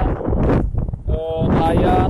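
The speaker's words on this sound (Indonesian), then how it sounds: "kita bisa merasakan angin yang berhembus di pinggir pantai ini sekarang sangat berhembus, sangat kencang" Strong wind blows along the beach at Pangandaran harbor, buffeting the microphone in loud, gusty rushes with a voice partly audible beneath the roar.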